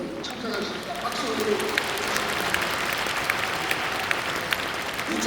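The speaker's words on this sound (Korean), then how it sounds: "박수." A church congregation applauds lawmakers attending a Korean Easter service preparatory prayer meeting at Yeouido Full Gospel Church, a moderate, even spread of clapping across a large hall with a few sharper claps standing out.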